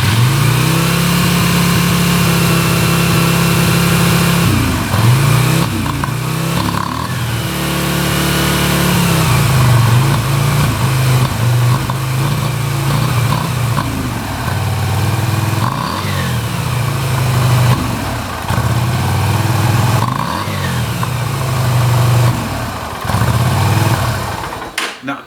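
A Yamaha Virago motorcycle engine runs on full choke, loud and close, a steady low rumble with repeated blips of revving and easing off throughout, no voices over it.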